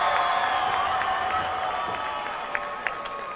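A crowd at an MMA fight keeps up dense applause with scattered cheers, fairly loud and continuous, with a voice carrying over the noise.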